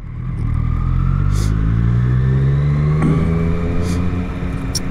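Triumph Street Triple S motorcycle cruising at a gentle steady pace, the engine holding a smooth continuous drone with a slight rise in pitch, wind rush and road noise close to the rider.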